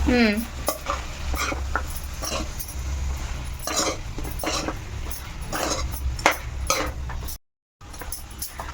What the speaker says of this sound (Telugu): ఇప్పుడు ఇది ఇందులో వేసేసుకోవాలి ఓకే ఇప్పుడు ఇది మనకి బాగా ఫ్రై అవ్వాలి